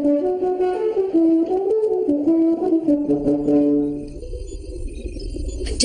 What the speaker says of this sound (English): it sounds just like the horn